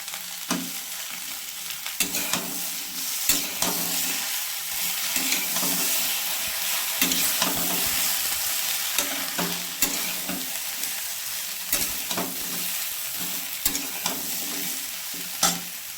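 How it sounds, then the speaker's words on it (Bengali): Ginger paste fries in a pan for sukto, a steady close sizzle punctuated by regular scraping and knocking strokes of a spoon stirring the mixture. "এখন আদা বাটাটা দিয়ে দিব"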